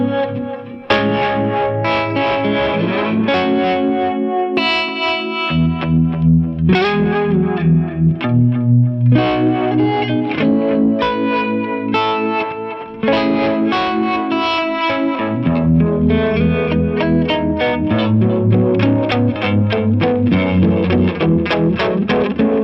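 An electric guitar through an effects pedal plays a series of chiming, chorus-tinged chords and riffs, bright and clear with shifting voicings and no talking.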